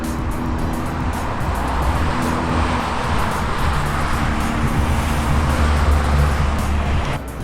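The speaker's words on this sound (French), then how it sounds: "les voitures commencent à re-rentrer de leur tour actuel sur le circuit de Zolder" Car engines roar steadily nearby as Minis drive slowly into the pit lane at the Zolder circuit during a trackday, a continuous loud rumble of motors with no pauses.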